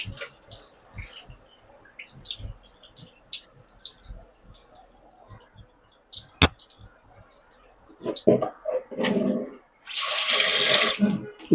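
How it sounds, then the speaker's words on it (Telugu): Ivy gourds washed in a bowl at a sink, with scattered small clinks and talk first, then loud running tap water and splashing near the end. "శుద్ధంగా నీళ్లు పోసుకొని శుద్ధంగా మొత్తం కడిగేసుకోవాలి"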